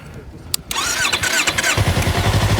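A 2024 Yamaha MT-03 motorcycle engine, started hot, cranks briefly, catches and settles into a steady, throbbing idle, loud and close.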